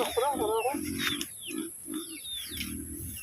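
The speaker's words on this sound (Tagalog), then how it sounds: "Ilang buwan na yung baboy mo?" Pig kept on a rural farm in the province, grunting in several short, low bursts close by, while people talk briefly at the start.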